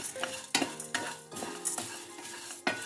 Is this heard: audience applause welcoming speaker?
no